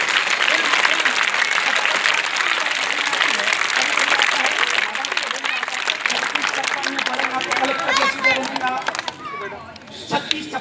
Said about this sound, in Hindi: ताली